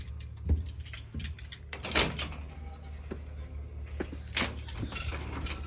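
A house front door being opened and shut during a walk-through before demolition, with a couple of sharp clunks and a latch rattle over a low steady hum, moderately close.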